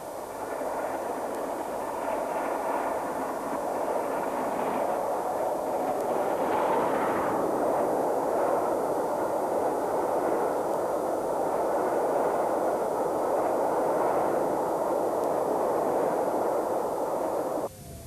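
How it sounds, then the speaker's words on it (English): LNER A2 class steam locomotive 60532 Blue Peter hauls a train over the Settle and Carlisle line, a steady roaring rumble of exhaust and rolling wagons held at even strength, cutting off abruptly at the end. "the loco gave way to another peppercorn design in the form of 60532 Blue Peter, which was to haul the train over the Settle and Carlisle to Skipton"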